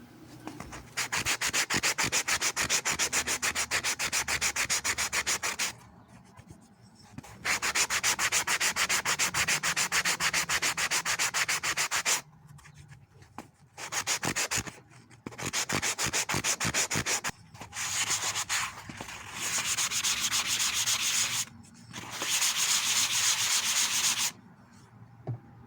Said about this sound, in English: I did my best to sand it down.